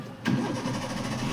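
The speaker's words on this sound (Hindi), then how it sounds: "सेल्फ भी स्टार्ट नहीं कर रहे हो सही से आप" A car engine cranks on the self-starter and catches, settling into a steady close idle right after the start.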